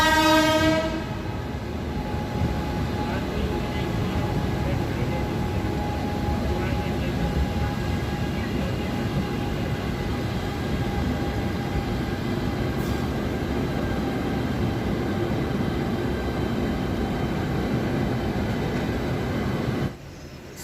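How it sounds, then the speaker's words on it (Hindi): A passenger train pulls into a station halt on an overnight Covid-19 special service from Indore to Jabalpur, a long horn blast opening over a loud, steady rumble of wheels and carriages that runs on throughout. "हमारी ट्रेन पहुंची अपने 5वें हॉल्ट पे"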